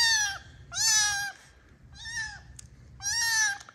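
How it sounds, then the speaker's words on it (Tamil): A native domestic cat meows four times, clear and close, with short pauses between the drawn-out calls and a quiet room behind them. "இது வந்துட்டு நாட்டு பூனை தான்"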